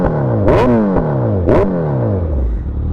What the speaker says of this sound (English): Listen to that Brock's exhaust.